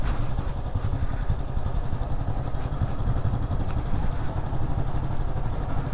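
A Royal Enfield 535 Fury single-cylinder engine idles steadily and loudly nearby, its even thumping pulse continuing without a break, with no other sound standing out.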